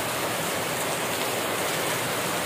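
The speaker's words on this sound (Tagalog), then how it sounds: "Lakas ang ulan." Heavy morning rain pours down steadily outdoors, a dense, continuous hiss that fills the scene without pause, loud and close with no voices.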